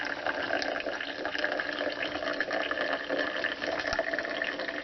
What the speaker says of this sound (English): I'm literally just running the boiled tree sap right into the coffee grounds, and that'll go into my cup.